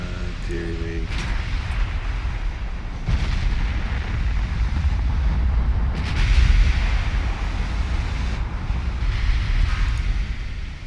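Naval artillery in the Ultimate Admiral Dreadnoughts video game, with deep booming gun blasts rolling in several heavy, spaced shots over a constant low rumble of battle and a voice talking over it.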